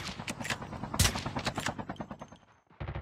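Rapid bursts of automatic gunfire in a military shooter video game, with one sharp louder shot standing out mid-way, then a brief pause before firing resumes.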